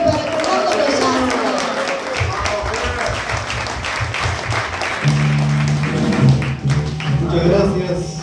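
Audience applause and cheering for a country singer fill the space at a live show, with steady clapping throughout. An announcer's voice carries over the crowd, and a band begins playing near the end.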